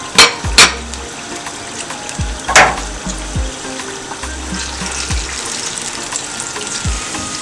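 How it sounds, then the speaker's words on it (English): Vegan dodo alternative sizzles and crackles steadily in hot oil, with a few sharp clattering knocks and scraping stirs near the start. "while these are frying, I'll be stir frying all the veg together."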